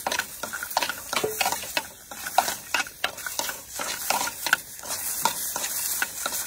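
A spoon stirs ingredients in a hot pan for a fish paste dish, scraping and sizzling in quick, irregular strokes. The sound is close and steady, with no talk.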